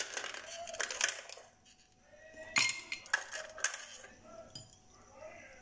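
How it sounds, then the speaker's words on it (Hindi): Ice cubes clatter into a glass for iced dalgona coffee, giving several sharp clinks and knocks in quick bursts, close and fairly loud, with quiet pauses between the drops. "इसमें पहले जाएगी बर्फ, ये क्यूब्स हम डाल लेते हैं।"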